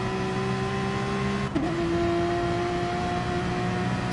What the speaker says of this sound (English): The Porsche, of course, being one of the best sounding cars in the game.